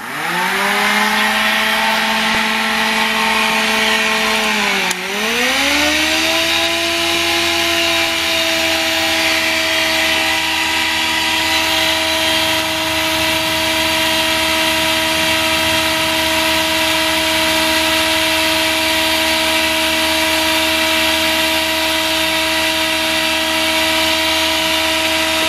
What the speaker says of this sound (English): See how long it takes me to run this thing, this air sander, before it kicks on again.